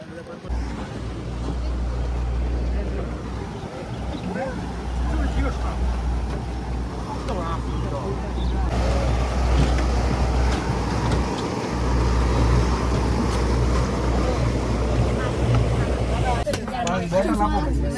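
A speedboat engine drones steadily through a boat ride at sea, a loud low rumble with wind and water noise on top, while people talk over it nearby.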